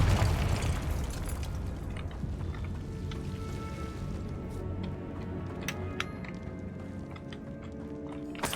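A Confringo explosion spell goes off in the video game Hogwarts Legacy, a loud booming blast at the start that rumbles and fades into a crackling, debris-like tail with scattered small pops.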